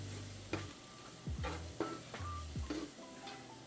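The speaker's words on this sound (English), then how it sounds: "you want to make a roux and cook this mixture" A flour-and-fat roux stirred and sizzling in a pan for smothered pork chop gravy, with a steady frying hiss broken by several distinct scraping strokes of a utensil against the pan, close up with no talking.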